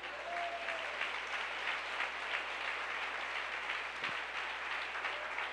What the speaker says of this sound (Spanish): Aplauso al Señor Jesús.